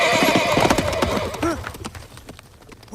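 In the 1988 fantasy film Willow, a horse whinnies loudly up close amid galloping hoofbeats. The hooves drum on and fade as the rider passes.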